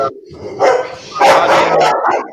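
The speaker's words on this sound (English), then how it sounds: "Oh, it's a dog." A dog barks a few times in quick succession, loud and close, with voices talking around and partly over the barks.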